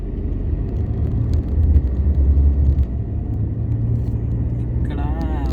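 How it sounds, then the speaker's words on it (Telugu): Double-decker bus rolling past on a street, heavy low engine rumble and road noise holding steady and close, with a brief higher whine near the end. "చూడండి, ఇక్కడ డబుల్ బస్ వెళ్తుంది."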